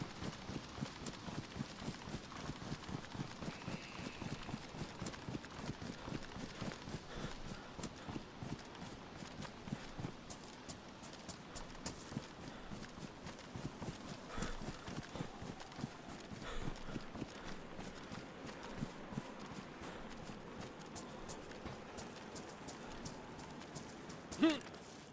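Footsteps run in a woodland survival shooter game, a fast, steady patter of quick thudding steps continuing throughout at moderate volume, with faint background noise.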